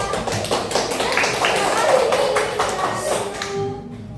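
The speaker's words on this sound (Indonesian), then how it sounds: "tepuk tangan buat kelompok 3" Classroom students clap for group 3 after its presentation, a dense stretch of close handclaps lasting several seconds with voices mixed in, fading out near the end.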